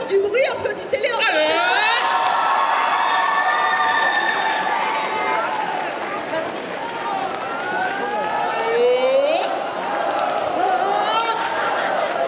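Crowd at a cosplay parade at Bordeaux Geekfest cheers and claps for the costumed performers, with loud whoops, shouts and high voices rising over a steady bed of applause and chatter, busy and close throughout.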